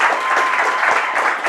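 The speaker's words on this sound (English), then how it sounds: "Do a quick round of applause for James." Short burst of steady audience applause after a Ruby programming talk on background jobs at an Atlanta Ruby user group meetup in 2014, a dense, even patter of many hands filling the room throughout.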